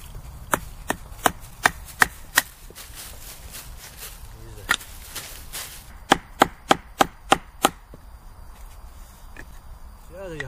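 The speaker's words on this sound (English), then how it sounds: "batten them through the wood" A wooden wedge is struck repeatedly with a baton to split wood outdoors for bushcraft fire prep: sharp, close, evenly spaced knocks come in two runs separated by a pause, with a voice talking quietly underneath.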